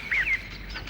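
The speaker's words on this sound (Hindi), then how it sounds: "बैकग्राउंड में चिड़ियों के चहचहाने की आवाज आ रही है।" A bird gives one short, faint chirp against a low background hiss on a recorded cassette tape, and the chirp is gone within half a second.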